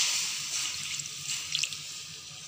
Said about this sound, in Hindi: अब जो है हम 1/2 कप पानी ऐड करेंगे इसमें।